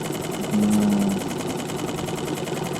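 A foreign-made outboard motor runs on a boat, giving a steady, close, buzzing drone with an even mechanical whine and no voices.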